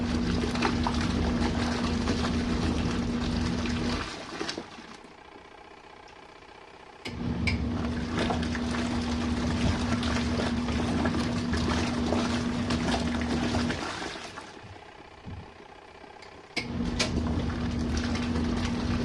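An RV washing machine runs a large load through its 15-minute standard-mode main wash, giving a steady close motor hum with watery churning. It drops out twice for a few seconds before resuming, with no talking.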